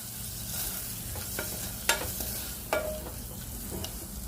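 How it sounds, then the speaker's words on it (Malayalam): Onions sautéing with coriander powder in a pan give a soft, close sizzle, broken by a few sharp scrapes and clinks of a spoon stirring against the metal. "ഇതെല്ലാം കൂടി ഒന്ന് നന്നായിട്ട് വഴറ്റുക"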